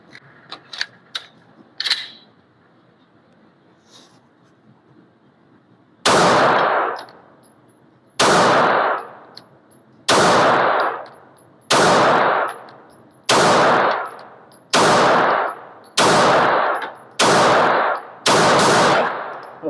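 Pistol shots from a Ruger RXM fired at a target: after a few faint clicks and handling noises, eight loud, sharp reports ring out at a steady pace, each followed by a short echo, with no talking.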